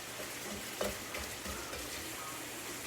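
Taco meat browns in a pan on an electric stove with a faint, quiet sizzle, broken by a few soft scraping stirs.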